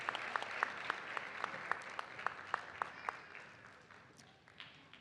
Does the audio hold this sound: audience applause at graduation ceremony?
yes